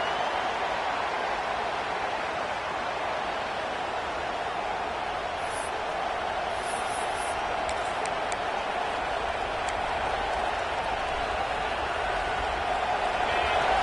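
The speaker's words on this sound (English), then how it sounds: "Listen to this crowd just shaking the girders of this place, trying to help their defense." A stadium crowd at a college football game against Arkansas roars as a continuous, loud, dense wash of cheering that holds steady throughout, with no distinct voices standing out.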